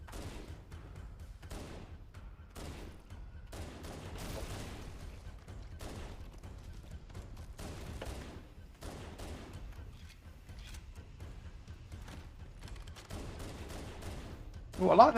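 Gunfire in the Halo CE campaign, a steady run of faint shots and bursts under game sounds, with a louder blast right at the end.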